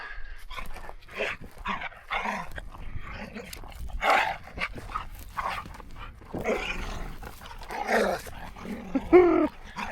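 Dogs playing off leash outdoors, growling, panting and giving occasional sharp barks in busy, irregular bursts, close and fairly loud.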